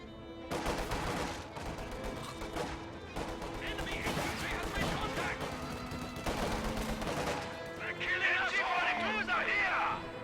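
Video game infantry battle with guards and grenadiers fighting around a building: continuous crackling rifle and machine-gun fire with bursts and explosions throughout, under steady commentator speech.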